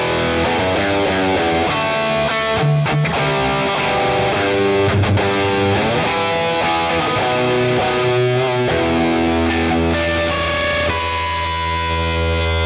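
Clean boost electric guitar tone through a Boss Katana 50 MK2 amp, steady chords and single notes ringing continuously with light distortion and reverb, no talking.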